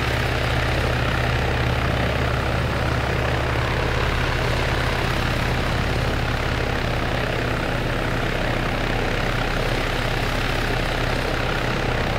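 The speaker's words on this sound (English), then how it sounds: "call this a benefit of having a small helicopter" Small helicopter in the ArmA 3 video game, on the Malden 2035 map, flying steadily with a continuous loud rotor and engine drone that holds even and close for the whole stretch.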